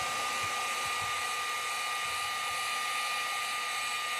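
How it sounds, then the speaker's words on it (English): A heat gun blows with a loud, steady, unbroken whoosh and a thin whine as it dries glue on a gourd, the airflow continuing without pause and no voices present. "I'm going to take my heat gun and I'm going to dry it"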